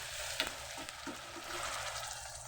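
Sliced onion fries in a pan with ginger paste and garlic paste as it is stirred. A soft, continuous sizzle runs throughout, with a few light scraping clicks near the start, all quiet and close.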